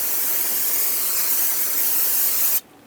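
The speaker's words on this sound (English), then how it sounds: "Use brake parts cleaner to clean off the surface, degrease it." Brake parts cleaner sprayed onto a new brake rotor for a 2019-2024 Subaru Forester, a loud, steady close-up aerosol hiss that runs unbroken before cutting off abruptly.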